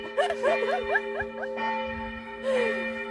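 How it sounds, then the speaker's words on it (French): Church bells ring at midday with a series of quick, clanging strikes and a humming resonance behind them, moderately loud, with no voices. "on va laisser passer les cloches"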